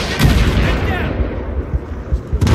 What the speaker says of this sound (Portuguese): Ó, o tiro, ele tá destruindo tudo